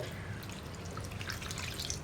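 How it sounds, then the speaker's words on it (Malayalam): Flattened rice (aval) being rinsed in water in a kitchen, with faint sloshing and soft scattered drips and splashes, quiet and close, without talk. "ഇത് 2-3 പ്രാവശ്യം ഇതുപോലെ ഒന്ന് കഴുകിയെടുക്കുക കേട്ടോ."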